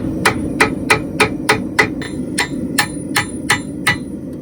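Steady hammer blows on a hot forged piece as its toe is squared off, about a dozen sharp metallic strikes in an even rhythm, close and clear with no talking.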